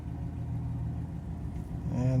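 A 1984 Jaguar XJS V12 idles at about 750 rpm with a low, even rumble close by, while a voice speaks over it toward the end.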